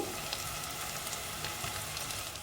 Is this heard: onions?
yes